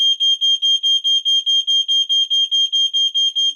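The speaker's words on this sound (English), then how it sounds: "I think the fire alarm went off because of my hookah." A smoke alarm set off by hookah smoke in a hookah lounge, blaring loud, close, rapid evenly spaced shrill beeps that repeat without a break throughout.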